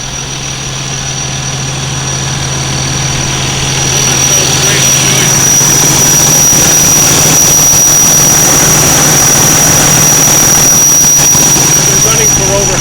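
A retired 2005 CCC garbage truck with a 25-yard Leach body and a bent exhaust idles loudly and steadily nearby, a constant heavy engine drone with a sustained whine that swells slightly partway through.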